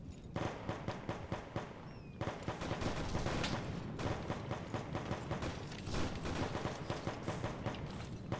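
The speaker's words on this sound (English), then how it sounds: "The firing is to our east." Arma 3 gunfire, a sustained exchange of rapid automatic bursts and single shots, dense and continuous with irregular rhythm, sounding moderately distant across eight seconds.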